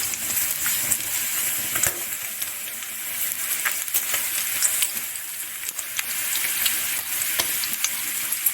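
Bacon and hash browns frying for breakfast make a steady, bright crackling sizzle with scattered pops and spits throughout, close and fairly loud, with no talk over it.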